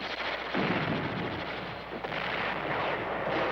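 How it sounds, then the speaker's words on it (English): Artillery fire, rockets and mortars pound a garrison at Khe Sanh during the Vietnam War, a dense, continuous rumbling barrage with no distinct single blasts, heard without any voices. "The incoming artillery fire, rockets, and mortars of the enemy continue to pound the garrison."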